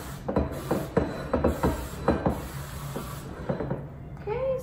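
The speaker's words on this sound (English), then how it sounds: "don't forget to spray it because you don't want it to stick" Cooking spray misted into a small square baking pan in a home kitchen, heard as a series of short hissing bursts, close and fairly quiet, fading toward the end.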